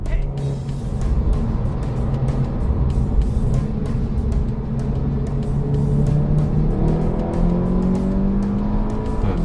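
Seat Leon Cupra 290 turbocharged engine pulling hard while driving: a continuous loud drone heard from inside the car, with engine tone rising steadily as it accelerates under boost, over road and wind roar.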